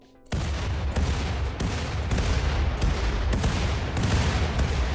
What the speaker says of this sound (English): let's get a volley of fire on that with the smaller plasma weapons